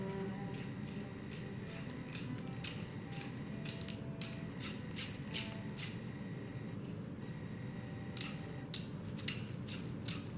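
Scissors trim the top off a feather quill in a series of close, crisp snips, spaced irregularly over a faint steady background hum, with no talking.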